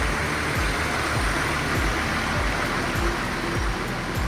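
Floodwater rushing in a steady, loud, continuous roar with no pauses, with a broad churning wash and low rumbling throughout, heard up close without any voices.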